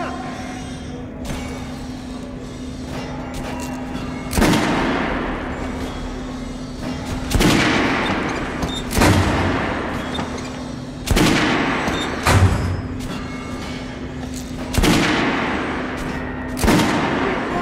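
Gunfire at a shooting range in the video game Metro Last Light, with loud single shots and short bursts recurring every couple of seconds over a steady low hum, and faint speech between them.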